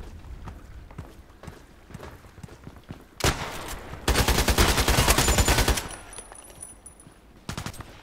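Video game gunfire crackles in a contract-mission shooter, with a few scattered pops followed by a dense, loud burst of rapid shots and a final short volley. No one speaks.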